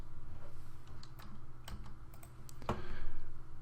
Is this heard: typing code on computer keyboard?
yes